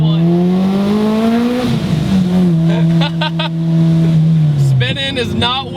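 A supercharged Honda Civic Si FA5 with VTEC revs hard, its engine note sweeping up, dipping and climbing again in loud, close pulls, with a brief burst near the end.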